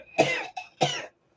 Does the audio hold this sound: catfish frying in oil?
no